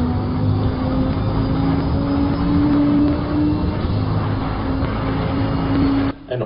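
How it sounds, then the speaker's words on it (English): A Lamborghini drives along with a steady, loud engine drone and road roar, a sustained tone running throughout before a brief dip at the end. "driving a Lamborghini."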